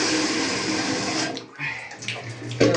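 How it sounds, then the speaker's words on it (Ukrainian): Hot water runs into a bathtub in a steady, close rush that briefly cuts off, then resumes with lighter trickling and splashes. "Набираю гарячку"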